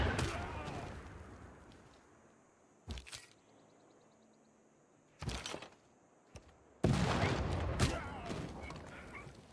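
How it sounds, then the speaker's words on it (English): Bombing strikes in Civilization VI land in sharp, loud bursts, first two short blasts and then a longer rumbling explosion, over quiet game ambience. "Bombs away."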